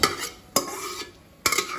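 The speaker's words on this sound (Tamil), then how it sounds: "இப்போ நல்லா கலக்கி விட்டுடலாம்." Vegetable kurma being stirred in a pan, with a spoon clanking against the metal three times at irregular intervals over a soft, quiet background.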